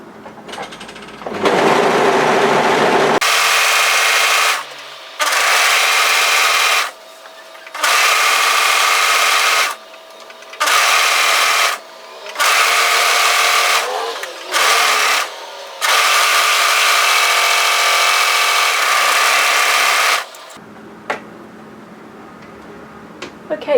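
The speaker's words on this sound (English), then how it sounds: "Let's go to our serger and overlock tidy that edge." A serger overlocks a fabric edge in loud, close bursts of whirring stitching, several seconds each, separated by short pauses as the fabric is guided through.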